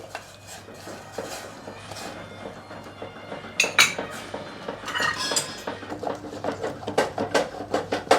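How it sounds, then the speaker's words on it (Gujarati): A spoon stirs flour, added a little at a time, into a pot of boiled water with oil on a gas stove for khichu, giving repeated scraping clinks against the metal that grow louder and more rhythmic toward the end. "આમાં છે ને થોડો થોડો લોટ એડ કરી આ રીતે હલાવતા જવાનું છે"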